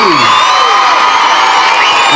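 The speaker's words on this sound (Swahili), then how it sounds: "Makofi wanafunzi" Schoolchildren at a primary school classroom commissioning cheer, whoop and clap in a loud, dense crowd burst that stays steady throughout, with many high young voices shouting together close by.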